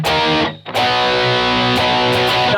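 Distorted electric guitar strumming the chords of a song, loud and dense, with a brief drop-out near the start before the full strummed chords ring on steadily.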